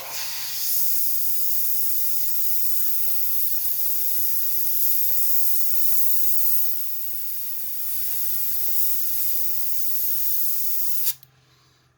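Spray paint hissing steadily onto a model fleet carrier ship, one long continuous close spray burst that stops abruptly near the end.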